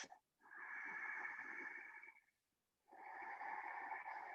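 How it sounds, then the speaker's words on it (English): Two long, steady ujjayi yoga breaths through the nose with a soft hollow rasp at the back of the throat, close and unhurried, separated by a brief quiet gap. "you'll hear it make a hollow sound like that"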